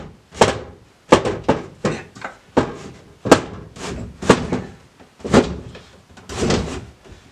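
A jammed wooden drawer is yanked out in a series of about a dozen sharp knocks and scraping thuds. The jolts come in an uneven rhythm, close and fairly loud, with no talking.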